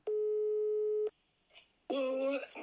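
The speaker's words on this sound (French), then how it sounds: "le premier qu'on va appeler, c'est le numéro 679" A single telephone ringing tone sounds during an outgoing call, one steady electronic beep about a second long. A short pause follows, then a voice comes in.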